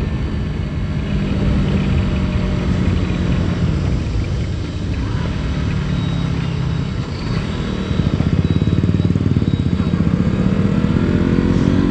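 A motorcycle races alongside a Royal Enfield Bullet on an open road, its engine a loud, constant rumbling drone with heavy wind roar and rising revs near the end.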